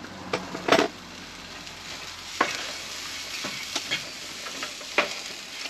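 Food browns in a Ridgemonkey pan on a two-burner camping stove, a gentle steady sizzle punctuated by several scraping and clattering knocks as it is moved about.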